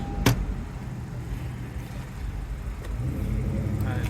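A basic 2.4-liter engine in an Acura TLX idles smoothly with the hood open, a steady low rumble holding throughout after a brief click near the start.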